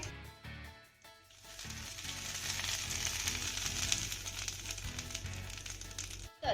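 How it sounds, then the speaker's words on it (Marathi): Loud, steady sizzling of hot oil tempering poured over chutney, a dense crackling hiss that fills the whole clip and ends abruptly. "आता ही कडकडीत फोडणी आपल्याला चटणीवरती घालायची आहे"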